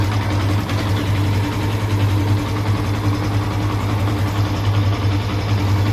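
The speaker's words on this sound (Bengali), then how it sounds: "দেখতে পেলেন আমাদের বাইক পুরো সঠিকভাবে চলছে" A Yamaha FZ-S motorbike, just repaired after a fuel pump fault, runs at a steady idle with a strong low hum and even, unbroken engine drone close by.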